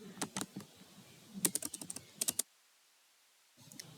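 A computer keyboard clatters as an axis title is typed into an Excel chart, giving a quick run of close, crisp keystrokes, then a pause before a few more taps.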